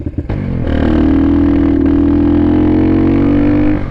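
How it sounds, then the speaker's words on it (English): A Honda XR150 motorcycle pulls away and holds a loud, steady engine drone at near-constant revs, close by and running alone for several seconds after a brief clatter at the start. "the Honda XR150 is out. People love that bike, so let's go for a ride."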